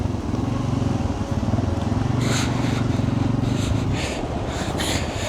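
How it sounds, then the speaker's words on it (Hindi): A Suzuki GS150 motorcycle descends a muddy slope with a close, steady low engine thrum pulsing unevenly, while bursts of wind buffeting or brief noise come over it. "अभी ये भी उतराई वैसी थी लेकिन बिल्कुल सुकून से उतरी है बाइक"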